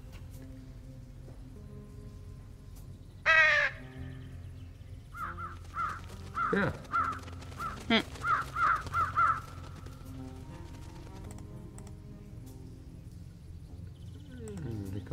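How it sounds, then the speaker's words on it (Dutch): A whistle call in the adventure game Trüberbrook is followed by crows cawing, with a sharp call and then a run of repeated harsh caws over a low ambient hum, and a voice speaks briefly. "Kan ik weer die vogels roepen?"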